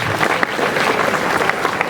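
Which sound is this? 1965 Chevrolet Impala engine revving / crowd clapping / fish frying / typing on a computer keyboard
crowd clapping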